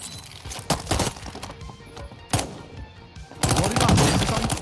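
Gunfire from the video game Call of Duty: Warzone, set on the Vondel Park map: a few separate bursts of shots, then a sustained louder stretch of firing near the end, with quieter game ambience between.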